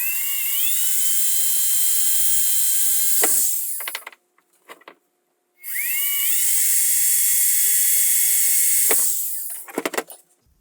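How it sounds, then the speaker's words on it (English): A power drill bores screw holes into a potato cannon blast chamber in two long, steady high-pitched whining bursts, each ending with clicks and brief rattles, separated by a short pause. "Now we've done drilling"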